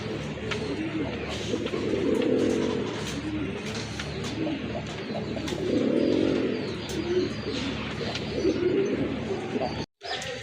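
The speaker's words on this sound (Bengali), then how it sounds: "এটা হচ্ছে আপনার ব্ল্যাক চেক কালারের ভিতরে একজোড়া দেশি কবুতর" A pair of black-check native domestic pigeons coo in soft, rounded bursts that swell and fade several times, close by, with a little background chatter and chirping around them.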